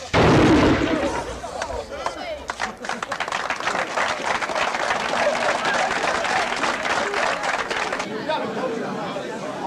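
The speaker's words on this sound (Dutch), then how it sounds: "Kanonier, vuur!" At a 1997 Peugeot dealership opening in Veendam, a ceremonial cannon fires one sharp, loud blast, followed at once by sustained crowd applause and chatter.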